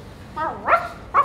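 A dog in a school theatre play of the Odyssey, where Argos recognises his master, gives a few yelping, whining barks up close, the loudest in the middle and one short yip at the end, with no talking.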